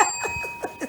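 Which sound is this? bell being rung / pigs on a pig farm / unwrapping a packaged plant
bell being rung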